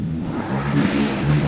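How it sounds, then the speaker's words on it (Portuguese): Motorcycle engines rev outside in a loud, continuous mid-pitched drone with rising throttle bursts, heard through a room and with no talk over it. "Eu peço perdão pelo barulho das motos."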